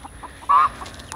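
A rooster in a backyard flock being handled for disease testing gives one short, fairly loud cluck, alone against quiet background noise.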